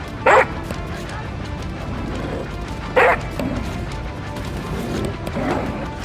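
A dog in a video game gives two short, sharp barks about three seconds apart, loud against a low, steady background of game noise.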